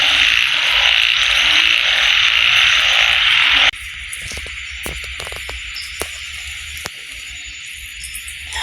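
A dense chorus of frogs croaks loudly and continuously at dusk, then drops to a quieter, thinner chorus with occasional sharp clicks and calls as darkness falls.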